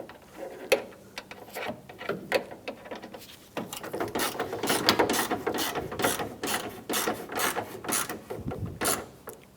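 Headlight bolts on a 1997–2001 Honda CR-V are tightened with a ratchet, giving bursts of fast close clicking, sparse at first and then dense and continuous, with no talking.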